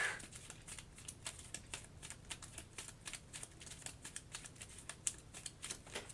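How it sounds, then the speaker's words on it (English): A deck of cards shuffled during a Townsfolk Tussle tabletop session, heard as a quiet, steady run of crisp ticking riffles lasting several seconds, close to the microphone, with no talking. "So let me shuffle."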